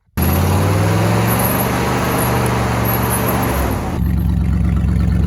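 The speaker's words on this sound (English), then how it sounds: "figured I'd fire up the blue Highboy and pull it over in front of the shop" A 1969 Ford Highboy truck's engine rumbles loud and close, firing up and then running steadily with a deep, even drone that eases slightly near the end.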